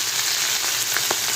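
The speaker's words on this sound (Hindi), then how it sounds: "प्याज को ब्राउन कर लेंगे पहले।" Half a kilo of onions frying in hot ghee on a tawa, a steady close hiss and crackle with occasional brief pops and stirring noises, no voices.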